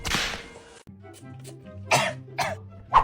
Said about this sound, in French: Tu tousses, ma chérie?